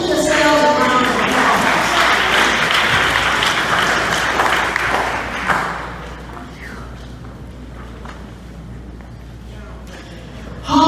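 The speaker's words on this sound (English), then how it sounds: "Give yourselves a round of" An audience at a high school Hall of Fame awards ceremony applauds loudly, a dense wash of clapping that gradually thins and fades, with a voice briefly heard at the end.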